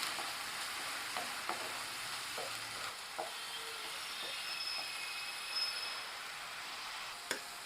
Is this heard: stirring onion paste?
yes